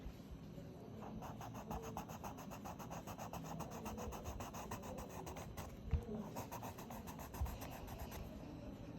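A drawing is coloured in with a light green crayon or pencil, producing a faint, steady, rapid back-and-forth scratching and rubbing that continues evenly with a couple of small taps.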